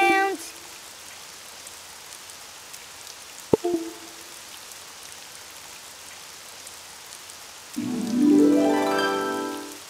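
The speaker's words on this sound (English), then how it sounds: "Oh, it's raining outside." Rain in a Daniel Tiger children's video game makes a soft, steady hiss under brief game chimes, with a rising musical flourish near the end.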